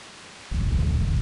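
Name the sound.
thunderstorm in the video game Grandia II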